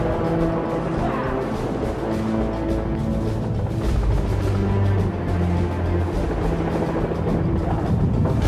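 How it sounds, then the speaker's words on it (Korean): Helicopter rotor din over open sea as it closes on a ship during a maritime police special-forces boarding drill, a steady, loud, continuous engine and rotor roar with wind that never lets up. "헬기가 선상으로 다가왔다."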